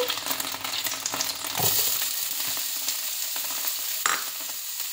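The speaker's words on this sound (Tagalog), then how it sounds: "naglagay ako ng konting oil ulit. So, ilalagay na natin ang ating onion." Onion dropped into hot oil in a pan, crackling and sizzling loudly and steadily up close, with stirring scrapes and a brief clink, no voices.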